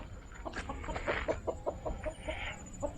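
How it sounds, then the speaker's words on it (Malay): Chickens on a small farm clucking close by, a quick series of short, clipped clucks at an uneven rhythm over faint background hum. "Okey, ni nampak ayam ni. Ayam ni adalah ayam yang bakal menjadi lauk di hari raya lah"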